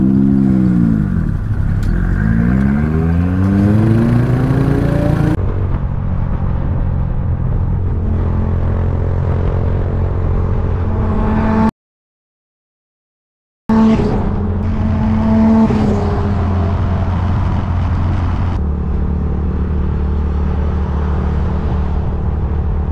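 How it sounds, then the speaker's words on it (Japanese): Nissan R32 GT-R with a loud aftermarket muffler roaring as it revs and accelerates close by, pitch sweeping up and down through gear changes, with a brief silent gap midway. "マフラーすごい音してますね"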